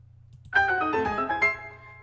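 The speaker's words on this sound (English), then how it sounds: "Let's do the unlock sound." A bright chime-like unlock sound effect rings out on a game stream, with a single struck tone that sustains and fades over about a second and a half against a low background hum.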